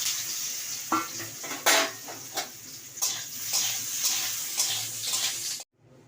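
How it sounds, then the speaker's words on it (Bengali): Raw green banana pieces coated in salt and turmeric fry in hot oil, a close sizzle punctuated by stirring scrapes and pan knocks, stopping abruptly just before the end. "নুন আর হলুদ মাখিয়ে এবার ভেজে নেব"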